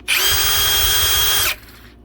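A Ryobi hammer drill running in hammer mode gives one loud, close, high-pitched whirring burst of about one and a half seconds, with a buzzing rattle beneath it, then cuts off sharply.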